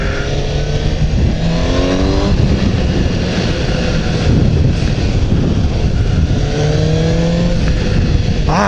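Suzuki GSX-S750 motorcycle engine braking on a test ride at a motor park circuit, a steady loud engine drone with falling and rising pitch sweeps as revs drop and pick up again, continuous throughout with wind noise.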